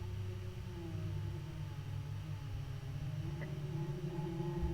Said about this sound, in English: Kind of sounds like distorted whale cries, almost.